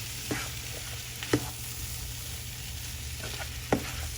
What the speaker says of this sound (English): I'm going to get the vegetables mixed in with that.